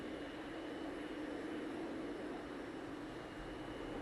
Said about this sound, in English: Jeff is taxiing his way out now.